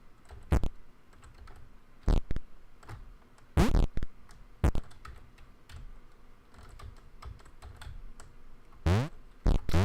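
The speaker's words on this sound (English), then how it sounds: "You can probably hear my keyboard in the background there." A computer keyboard clacks in irregular bursts of sharp, close keystrokes during play of the platformer Thomas Was Alone, with quiet stretches between some presses.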